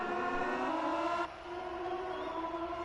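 A Moto2 motorcycle engine in the MotoGP20 racing game drones with a steady high-pitched, harmonic-rich whine, then drops in pitch and tone midway, as at a gear shift, holding fairly faint and alone.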